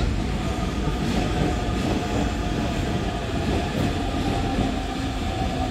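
An electric train in Japan rumbles past nearby in a steady, continuous roll of wheels and motor noise, loud and unbroken from start to finish.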